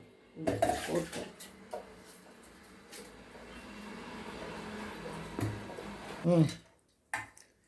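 Water splashes and pours into a container of raw rice at close range, with clinks of a pot and utensils, then a brief quiet before a short clatter.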